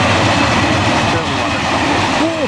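A train rumbling loudly past at close range, a dense steady roar with faint wheel squeals near the end, no talking heard.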